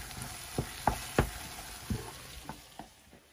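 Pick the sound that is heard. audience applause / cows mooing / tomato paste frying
tomato paste frying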